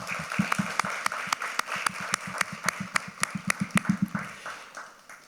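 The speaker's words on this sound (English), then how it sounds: "Come out here and take a round of applause." A small audience claps for Lexi Kellerman at a junior entrepreneur pitch competition, sparse distinct hand claps in an uneven rhythm that thin out and fade near the end.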